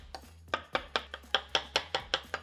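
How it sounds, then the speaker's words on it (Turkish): Rapid knife chopping of a garlic clove on a cutting board, about ten sharp, evenly spaced taps close by, with no talking. "Bir dişte sarımsak doğrayalım içerisine"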